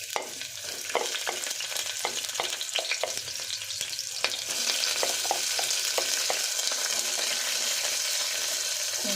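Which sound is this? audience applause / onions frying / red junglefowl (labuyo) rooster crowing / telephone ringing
onions frying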